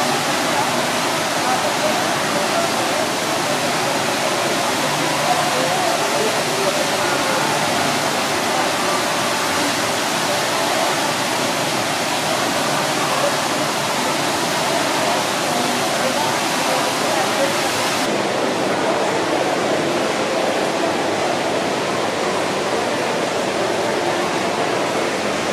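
The indoor waterfall at Jewel Changi Airport roars as a continuous, loud, even rush of falling water, steady throughout with a slight change in tone partway through.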